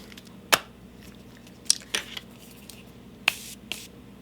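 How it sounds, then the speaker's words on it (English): Jeffree Star x Morphe Starberry setting spray misting out in a few short, sharp pumps spaced apart, close and fairly quiet against a soft background. "I like the way it sprays and how it smells."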